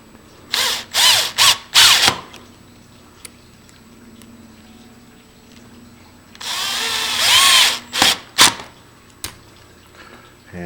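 A power drill drives two screws to install a door latch for an entry lever handle, heard as several short, close, loud whirring bursts, then a longer steady run and a few final quick pulses, with no talking.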